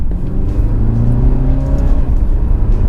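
An Alfa Romeo Giulia Veloce's engine accelerates in Dynamic mode, a steady, loud rising drone heard from inside the car with no talk over it.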